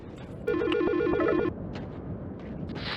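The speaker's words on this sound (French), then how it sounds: "notre téléphone sonne." Telephone ringing in the video game Silent Hill Shattered Memories: a single loud electronic warbling ring bursts for about a second, then cuts off, leaving quieter ambient game sound.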